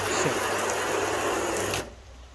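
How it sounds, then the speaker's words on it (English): A pressure washer sprays water onto a hydrophobic-coated vehicle surface, a steady loud hiss of spray lasting nearly two seconds before cutting off abruptly. "Let me try a different angle with the pressure washer."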